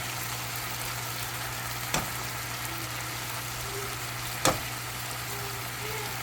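Pepper steak pieces frying and browning in a pan, a steady close sizzle with a low constant hum beneath and two sharp clicks, no voices.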